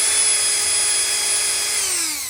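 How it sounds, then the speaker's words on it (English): A Dremel rotary tool spins a small buffing wheel on a rear brake caliper of a 2012 Honda CR-V 2WD, giving a loud, steady high-pitched whine that winds down in pitch near the end. "you've got a Dremel, I just take these little buffing wheels and that'll help"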